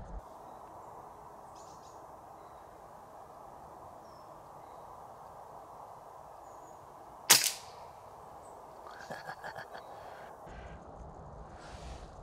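A single sharp gunshot fired at a twig near a squirrel feeder outdoors, one crisp crack standing out against a quiet background of insects and birds, followed by faint rustling.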